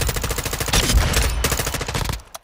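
An assault rifle fires on a shooting range in the video game Modern Warfare 2. Loud, rapid automatic bursts crack in quick succession, then cut off abruptly at the end.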